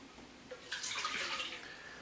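Warm water poured from a tap into a bowl for pizza dough, a soft steady splashing stream that swells in the middle and keeps running, close and moderately quiet.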